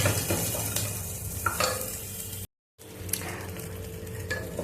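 Cumin seeds fry in a pan with a steady close sizzle and occasional stirring scrapes, broken by a brief gap of silence midway before the sizzling resumes.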